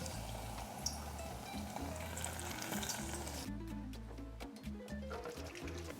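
Vegan mofongos frying in a pan, a dense crackling sizzle of hot oil with small popping bursts, close and steady, easing slightly toward the end, no voices.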